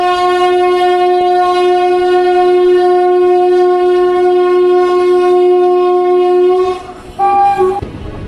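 A train running between Prayagraj and Jaunpur on the Ahmedabad to Varanasi route sounds a loud, steady horn for about seven seconds, then a brief drop and a second, shorter blast, with no voices.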